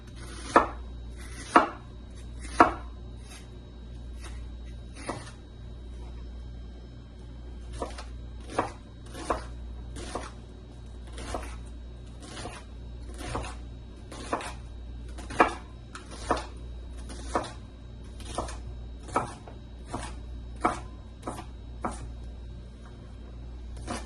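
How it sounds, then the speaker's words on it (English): A kitchen knife chops onions on a cutting board while taco fillings are prepared, giving a steady run of about two dozen crisp, fairly close knife strikes over a low, constant background hum, with no talking. "I've got the onions chopped."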